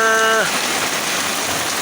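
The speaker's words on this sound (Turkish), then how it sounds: "gördünüz mü ne şiddetli yağmur yağıyor be böyle iyi" Steady heavy rain pours down in a dense, hissing roar, with a brief tonal whine fading out at the start.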